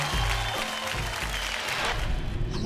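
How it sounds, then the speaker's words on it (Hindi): Applause from the audience at a televised awards show, a full, continuous burst of many people clapping, close and fairly loud, with music sounding underneath. "नीक मिश्रा जी के लिए एक बार जोरदार तालियां एवरीबॉडी।"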